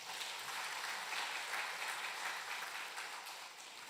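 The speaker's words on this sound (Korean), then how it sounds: "박수 한번 쳐주래요." A church congregation at a spring thanksgiving Sunday service applauds together in a broad, sustained wash of clapping that stays steady for several seconds before fading slightly.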